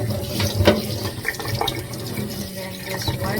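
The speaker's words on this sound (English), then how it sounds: "And then just wash it carefully, thoroughly." Running tap water splashes over a Pandora bracelet being rinsed clean of toothpaste in a sink, a steady close flow with small shifting splashes.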